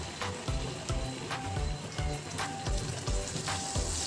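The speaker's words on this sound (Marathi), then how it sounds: "मग साधारण मिनिटभर आपण ही तेलामध्ये व बटरमध्ये अशा पद्धतीने परतून घेतो." Onion, garlic and tomato paste frying in oil and butter in a pan, sizzling steadily with rhythmic bursts of louder spatter from stirring about every half second, no talking.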